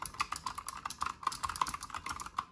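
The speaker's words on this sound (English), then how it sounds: "We got my Razer Huntsman, that's my keyboard. It's an okay keyboard. I definitely like the Ducky 1-2 a little bit better, but this one's okay. It's just so fucking loud." Rapid, uneven typing on a loud Razer Huntsman mechanical computer keyboard, with close, sharp clacking keystrokes filling the clip without any talk.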